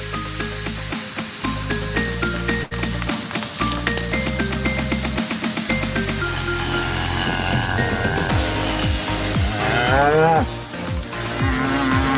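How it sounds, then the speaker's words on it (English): A beef cattle herd in a field, with cows mooing in long low calls under a loud, steady, busy backdrop that continues throughout. "In our fields is our herd, our cattle herd. They're beef cows, we raise beef."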